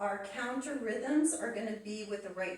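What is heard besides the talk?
No everyday noises stand out.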